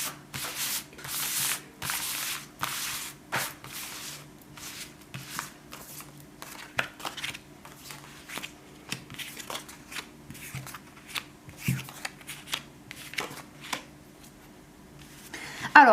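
Tarot cards are shuffled by hand in repeated soft riffles and sliding rubs, close and quiet, with short pauses between bursts and a faint low hum underneath.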